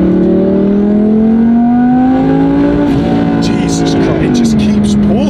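A 2017 Audi R8 V10+ with an 850 hp package cruises in third gear at about 4,500 RPM, its engine a loud steady drone that dips and rises slightly, while someone talks over it.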